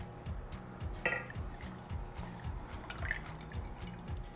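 About two ounces of liquid are poured into a measuring container while preparing ground beef, giving soft dripping and trickling with a few light clinks. Nobody speaks.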